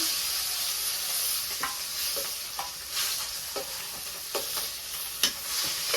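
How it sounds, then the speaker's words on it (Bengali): Fish frying in a pan gives a loud, steady hiss of sizzling oil, with scattered pops and light scraping stirs throughout and no voices. "মাছ ভাজি তো হয়ে গেছে, এখন আমি নামিয়ে নিই।"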